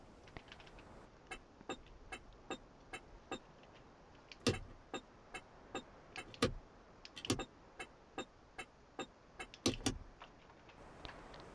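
Ibishu Chisai hazard lights ticking in a driving game, a steady series of sharp clicks at an even rhythm, about two per second, with a few louder thumps among them, close and fairly quiet, with no one talking.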